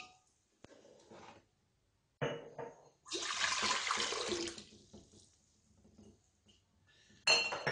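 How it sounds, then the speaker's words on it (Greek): Lukewarm water is poured into a mixer bowl for bread dough, a hissing, splashing pour lasting a couple of seconds, with clinks of kitchen utensils before and after. "στον κάδο του μίξερ θα βάλουμε 730 γραμμάρια νερό"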